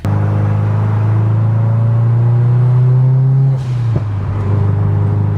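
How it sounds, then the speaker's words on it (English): Inside a built Subaru STI crawling through freeway traffic, a loud, steady engine drone fills the cabin, then dips and shifts briefly near the end before settling again. "Look at this traffic."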